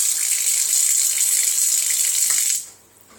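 Water running from a kitchen tap onto a counter for kneading sourdough by the wet method, a steady bright splashing stream for about two and a half seconds before it is shut off, close and alone.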